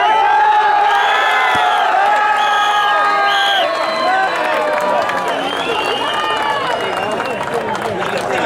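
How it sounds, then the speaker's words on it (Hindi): Loud, dense crowd cheering with whoops and shouts rolls on without pause at a village kushti dangal wrestling bout in Narayana, with voices calling out over the roar. "बहुत जोरदार तालियां"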